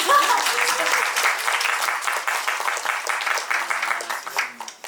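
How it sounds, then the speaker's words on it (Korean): An audience at a musical's stage greeting claps in a brisk, fairly close burst of applause that fades toward the end, with a few faint voices underneath. "박수 한번 치겠습니다"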